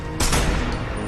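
Gunfire in an action film scene: a sudden loud burst of shots that rings out and decays over about a second, with no talk over it.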